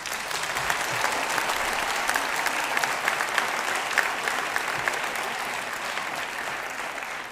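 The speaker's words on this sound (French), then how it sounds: "un tonnerre d'applaudissements." Audience applause at an eloquence tournament, a dense, steady roar of clapping hands that holds evenly for several seconds and then tapers off slightly at the end.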